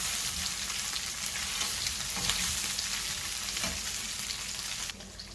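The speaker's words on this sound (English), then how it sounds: "I'm going to close my pot to fry my meat nice" Meat frying in a closed pot of oil, a steady, dense sizzle and crackle heard close up with no talking, dropping slightly quieter just before the end.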